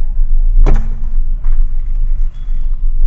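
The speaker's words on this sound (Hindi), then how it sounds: "ये देखिए 10 की स्पीड पे कार आराम से स्टार्ट हो गई।" A push-button car with a dead battery is rolled at about 10 km/h until its engine catches, a sharp clunk followed by a loud low idling rumble heard close from inside.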